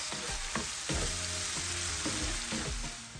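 Ground beef for tacos cooking in a pan, a steady broadband sizzle with scattered soft scrapes and knocks of stirring, close and fairly loud throughout, no voices.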